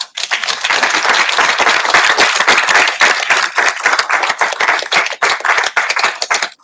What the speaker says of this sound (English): I want to make sure you have an opportunity to give yourselves a round of applause